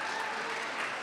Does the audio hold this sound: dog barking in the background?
no